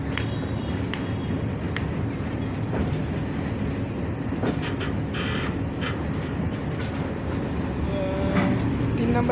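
A WDM-3D diesel locomotive, number 6527, hauls an oil tanker train through Saidpur railway station. There is a loud, continuous engine rumble with wheels clattering over the rails, and it swells slightly near the end.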